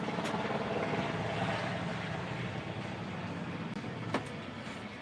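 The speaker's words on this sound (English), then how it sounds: "Here comes another military helicopter." A military helicopter flies overhead as a steady, broad rotor rumble and wash that holds for several seconds, fairly faint, with no voices.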